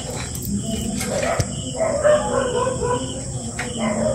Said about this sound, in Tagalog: Kanina pa yung aso mga idol oh.